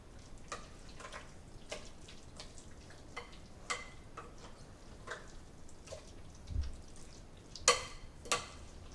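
A mixture being stirred during cooking, with soft scraping and clicking strokes repeating irregularly at a close, quiet level.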